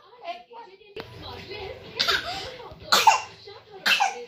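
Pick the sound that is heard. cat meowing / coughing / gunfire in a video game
coughing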